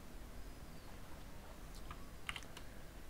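Someone types a few scattered key presses on a computer keyboard while entering values in MATLAB. The clicks are soft, distant and brief over a quiet background, with no talking.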